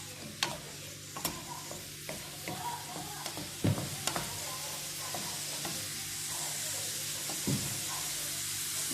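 Chopped onion sautéing with salt in a pan: a steady, close frying sizzle with repeated scraping stirs of a utensil against the pan.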